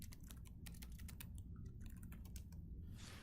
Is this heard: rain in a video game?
no